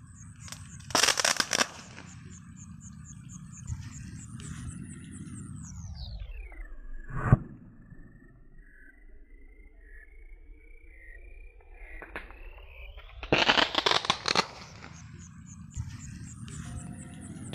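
Sharp crackling bursts from a homemade Roman candle firework made from match heads and firecracker powder go off twice, loud and close, with a single pop between them over steady outdoor background noise.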